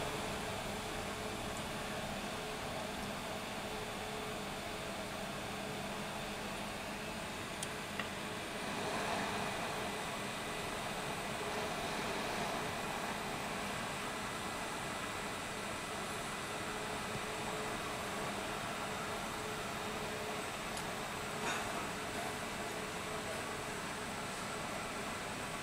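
A hot air rework station blows a steady, airy hiss without a break, fairly quiet and even throughout, during iPhone 6 component replacement.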